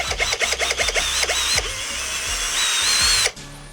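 A Procraft PA212 cordless screwdriver drives a screw into a workpiece, starting with a series of short stuttering bursts and then whirring continuously before stopping abruptly, loud and close.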